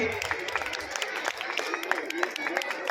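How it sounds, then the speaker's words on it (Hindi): Students applaud at a Republic Day school assembly to welcome the principal, a diffuse round of clapping with crowd murmur underneath, moderately loud and sustained. "जोरदार तालियों के साथ सर का स्वागत कीजिए।"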